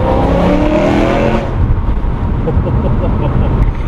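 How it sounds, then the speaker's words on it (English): A decatted BMW M3 V8 engine at about 3,500 RPM booms loudly and echoes off nearby walls, a rich rumbling drone that drops off abruptly into a rougher, burbling idle-like growl. "having the sound of that V8 resonating off the walls"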